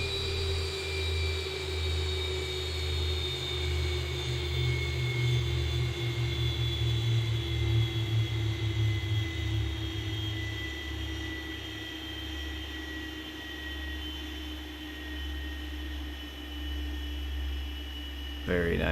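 Boeing 737 MAX engines in the X-Plane 11 flight simulator wind down after shutdown, a steady whine easing slowly lower over a constant low hum, with faint voices mixed in.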